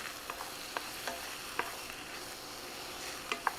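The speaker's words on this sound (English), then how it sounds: "You start cooking the mushrooms in a tablespoon of oil in a skillet." Mushrooms cook in oil in a skillet with a soft, steady sizzle, while occasional light scrapes and taps from stirring sound close by.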